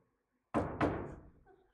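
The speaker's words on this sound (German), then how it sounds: "Sie klopft." Two quick, solid knocks on a door during a stage play performance in a theatre, close and fairly loud, each leaving a short resonant decay, with faint background sound after.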